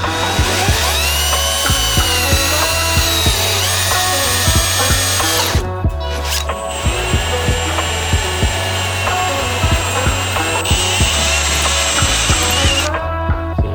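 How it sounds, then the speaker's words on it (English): A power drill bores out spot welds on a car body panel from an R33 Skyline drift build, a loud, close, sustained whine that surges and dips in repeated bursts, with one short pause partway through. "We're going to be drilling out all the low spots here, which are spot welds"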